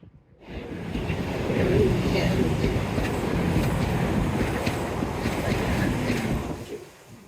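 A steady, loud rumbling roar of the passing Tornado steam locomotive swells in, holds for several seconds, then fades away.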